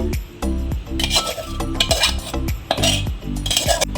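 Repeated clinks and scrapes of a metal spoon stirring a thick drumstick pickle mixture with turmeric and boiled tamarind in a bowl, close and fairly loud, in irregular bursts.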